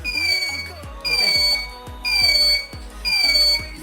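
Smart helmet alcohol sensor alarm beeping on a motorbike: four evenly spaced, high electronic beeps, each lasting under a second, sound loud and close, with a voice talking faintly underneath.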